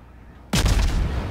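A warship's main gun fires once in the World of Warships video game, a sudden loud booming blast followed by a sustained rumbling roar after a quiet lead-in.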